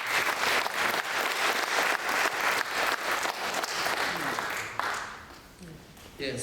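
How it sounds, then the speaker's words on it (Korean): A church breakfast worship gathering gives pastors a strong round of applause. Dense, loud clapping fills the room for about five seconds, then fades as a voice and room noise take over. "우리 힘찬 박수 우리 목사님 위해서"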